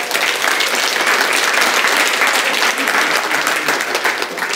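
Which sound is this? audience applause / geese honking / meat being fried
audience applause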